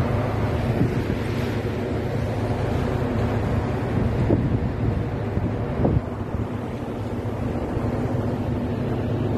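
Steady wind roars across the microphone on a survey vessel at sea, with a low rumble beneath like a boat moving over open water, continuous and fairly loud throughout.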